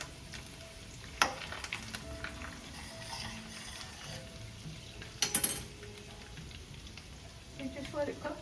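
Crabs sauté in butter and garlic in a pan, a continuous close sizzle with occasional clanks and stirring scrapes, while people talk intermittently over it.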